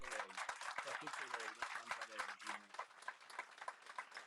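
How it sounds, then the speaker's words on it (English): Faint applause from a church congregation honouring Our Lady, a quiet patter of clapping that runs throughout while someone speaks over it. "Let's applaud Our Lady now."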